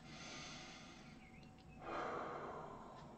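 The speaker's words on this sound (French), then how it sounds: "j'inspire par le nez, même si c'est un peu fort, un peu bruyant" A person inhales loudly through the nose during a breathing exercise, a soft airy draw that rises into a stronger noisy rush near the end, close and alone without speech.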